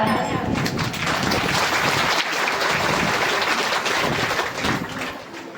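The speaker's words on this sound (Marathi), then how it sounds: "आणि आमच्या दादांसाठी टाळ्या." An audience gives steady, loud applause at the close of a Bhagavat katha discourse, dense clapping that runs continuously before easing slightly at the end.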